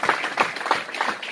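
A church congregation applauding loudly and close at hand, with steady rhythmic clapping throughout.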